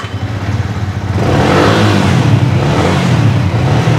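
A motorcycle engine idles, then swells into a louder, throaty exhaust rumble that holds steady close by.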